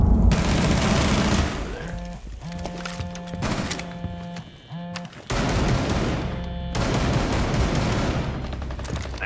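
Shotgun fire in a zombie shooter game comes as loud, close, repeated bursts, broken by short pauses and tonal game sounds, while a voice speaks briefly.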